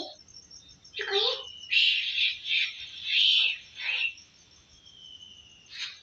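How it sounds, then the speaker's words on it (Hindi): Small birds chirp and tweet in bursts from a rooftop, several bright calls spaced over a few seconds, moderately near against a quiet background. "ये कुछ चिड़िया बोल रही है।"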